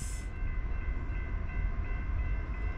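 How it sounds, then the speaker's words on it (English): A long CSX freight train led by an ET44AH locomotive, with an ES40DC and a mid-train DPU, rumbles past westbound at speed, a loud continuous roar of engines and rolling wagons with steady droning tones. "CSX, hammer down, westbound."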